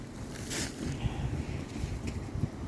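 Strong winter storm wind gusts buffet the microphone in rough, uneven rushes, with a low rumbling roar throughout and no voices.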